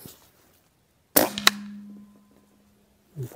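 A single sharp shot from a Rossi Outlander air rifle firing a slug, a crisp crack followed by a quick second impact snap and a lingering ringing hum that fades before a faint noise at the end.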